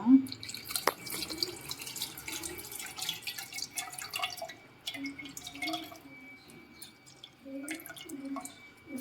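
Soaked tamarind is squeezed by hand in water for pani puri, producing wet squelching, dripping and splashing in irregular bursts, with a voice murmuring in the background.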